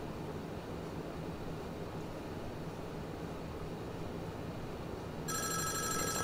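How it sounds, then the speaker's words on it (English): A telephone rings inside the horror video game Five Nights at Wario's, an electronic ring that cuts in near the end over a steady low ambient hum. "It's a phone call that we get every time."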